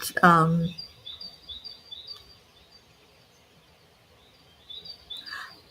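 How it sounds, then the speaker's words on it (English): Birds call outdoors with faint, scattered chirps that repeat throughout, after a brief louder sound at the start. "But I like the birds calling out."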